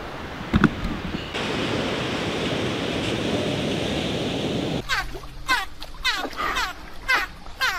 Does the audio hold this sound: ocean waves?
yes